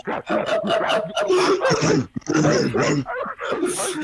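Several voices imitate dogs, yipping, barking and whining over one another in a loud, chaotic burst close to the microphone.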